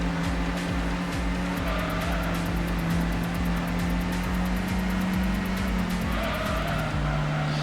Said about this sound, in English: Little slide there because of the brake.